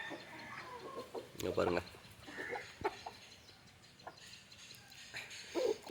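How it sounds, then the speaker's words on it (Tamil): Country chickens cluck while pecking at papaya leaves outdoors in the morning, with scattered nearby clucks and short calls over a steady background, and someone speaks briefly. "கோழியெல்லாம் அழகாக இருந்து பப்பாளி இலை கொத்திட்டு இருக்குது ப்ரோ"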